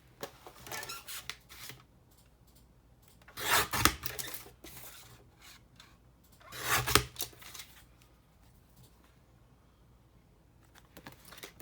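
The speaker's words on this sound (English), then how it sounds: "I love distressing the pearlescent card." Someone distresses the edges of pearlescent card with a rasping tool, making close scraping and rubbing strokes, two of them loud bursts, spread among quieter scuffs.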